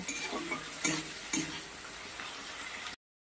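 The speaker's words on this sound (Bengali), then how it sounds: "ক্যাপসিকাম, টমেটো আর রসুন পেঁয়াজ আমি আর 1 মিনিটের মতো কষিয়ে নেব" Capsicum, tomato, garlic and onion sautéing in a pan, a close, even sizzle broken by a few sharp spatula knocks and scrapes before cutting off abruptly.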